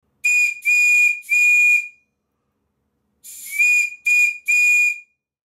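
A model steam whistle fitted to a Stuart model steam plant sounds three loud, sweet blasts, falls silent for about a second, then gives three more short toots, all close and clear.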